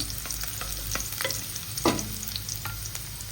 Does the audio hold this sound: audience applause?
no